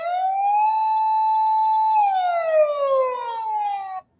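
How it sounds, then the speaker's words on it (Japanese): A toy ambulance plays its intersection-crossing siren mode, a clean electronic two-part wail that rises, holds steady, then sweeps down over about four seconds, close and alone. "あー、これは交差点とかを突っ切るときの音だ。"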